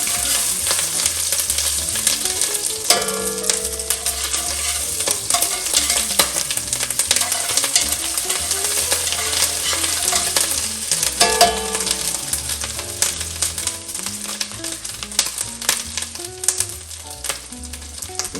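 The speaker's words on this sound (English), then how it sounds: "now to our pot, we're going to add our tomato paste. So we want to saute out the bitterness just a little bit" Tomato paste sautés in a pot for pot roast, giving a continuous bright sizzle with occasional stirring scrapes and clatters, close and steady throughout with no talking.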